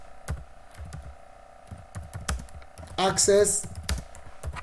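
A command is typed on a computer keyboard as a run of quick, close key clicks in an uneven rhythm, with a brief spoken word partway through.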